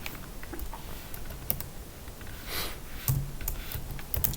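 A computer keyboard clicks softly as someone types a grep command in a Linux terminal: a handful of quiet, scattered keystrokes over faint room hiss, close by and with no talking.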